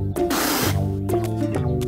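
Water sprays in the Boonie Bears cartoon: a short, loud hissing burst over a sustained musical tone, followed by a few fainter spurts.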